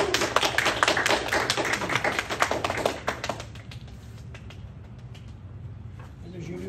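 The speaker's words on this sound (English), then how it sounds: "Let's give our brand new gold belts a big applause" A room full of people applauds new taekwondo gold belts at a belt ceremony, with dense, close clapping for about three seconds before it thins into scattered claps and quiet room noise.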